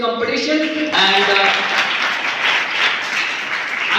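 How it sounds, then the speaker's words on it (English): Audience applause at a quiz competition, a dense sustained clapping that swells in after a brief moment of talk and carries on loud and steady to the end. "give a big round of applause for today's quiz competition"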